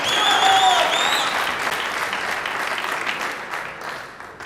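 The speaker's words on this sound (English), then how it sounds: "Hear the cheer when this goes in from this packed crowd." Packed crowd at the 2022 US Open Pool Championship quarter final bursting into loud applause after a winning shot, swelling with a few cheers and then slowly fading.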